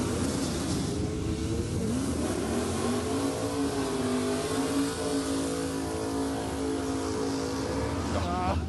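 A naturally aspirated Holden Torana revs hard through a drag-racing burnout, its engine note rising and holding in a loud continuous howl under a commentator's voice.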